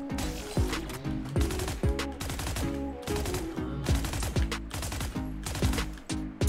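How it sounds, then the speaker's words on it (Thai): Valorant Phantom rifle with the Champions 2024 skin firing in rapid automatic bursts, loud punchy shots repeating steadily with brief gaps between volleys. "เสียงยิง"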